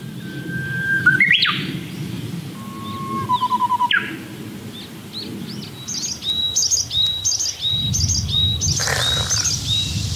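Several birds chirp and trill in a quiet summer forest at Naju National Forest Retreat in South Jeolla, South Korea, with clear repeated whistles and bright, rapid calls layered over a soft rustling background.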